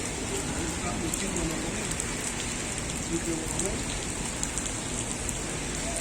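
Steady, dense rain patters on a surface throughout during intense rainfall in Cuba, a constant hiss with scattered drop taps; faint voices may sit underneath.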